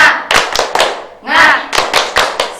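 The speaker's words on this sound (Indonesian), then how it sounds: "Yuk, tepuk semangat." A class of vocational school students claps together in a quick rhythmic pattern, sharp bursts of hand claps in short groups with a brief pause, fairly loud and close in a classroom.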